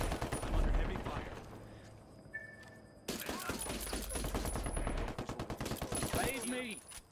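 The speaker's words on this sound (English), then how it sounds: "I'm under heavy fire" Rapid gunfire in a multiplayer shooter video game, dense bursts of automatic shots and overlapping fusillades that pause briefly then resume loudly, with voices talking over the action.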